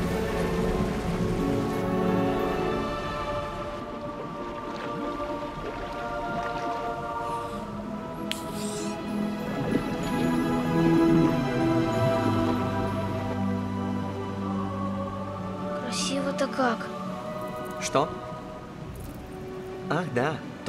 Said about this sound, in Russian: Каждая капелька этой реки – горячий шоколад наивысшего качества. Водопад – это самое важное.